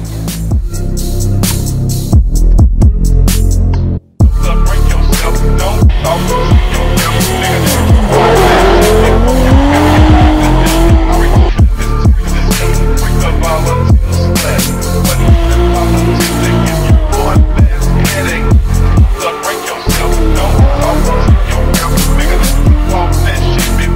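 Toyota Supra drift car at a French drift championship round in Croix-en-Ternois, loud revving engine with repeated sharp tire squeals and skidding, a brief cut near the start, then sustained screeching and bouncing revs close by.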